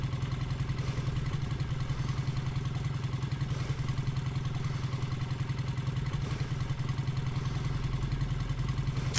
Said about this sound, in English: Aren't the zombies attracted to the sound of the engine?